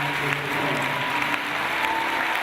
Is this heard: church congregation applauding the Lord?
yes